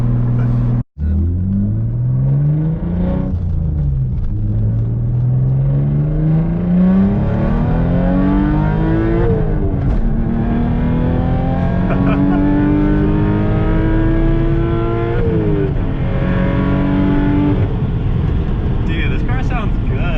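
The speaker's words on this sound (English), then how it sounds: "Like, I love the straight pipe, but it's just so loud for like just in public" A 400 HP Audi B5 S4 V6 with straight pipe exhaust, heard loud from inside the car as it repeatedly revs and accelerates through the gears, rising pitch sweeps under occasional talk.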